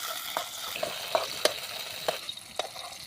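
Brinjal (kandankathiri) sautéing in hot oil gives a soft, continuous frying hiss, punctuated by a few distinct spoon-against-pan clinks at uneven intervals.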